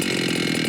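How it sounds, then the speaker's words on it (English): A Holzfforma G395XP chainsaw idles steadily up close, its engine holding an even, continuous drone with no stalling and no voices. "notice that the saw is idling and not stalling"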